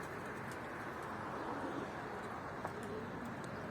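Low, soft cooing from pigeons kept for flight tests sounds faint and distant under a steady background hiss, with a few short murmuring calls spread across the moment.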